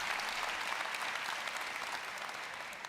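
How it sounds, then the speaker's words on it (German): Broad, continuous applause rises from a large crowd at a game press conference, a dense hiss of many clapping hands heard from a distance, tapering slightly toward the end. "Warte auf einen Applaus."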